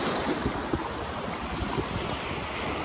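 Ocean waves wash in a continuous, broadband rush mixed with wind buffeting the microphone, steady with small surges, no voices.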